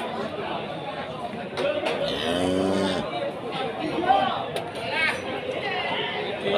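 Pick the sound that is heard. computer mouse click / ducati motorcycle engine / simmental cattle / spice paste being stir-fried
simmental cattle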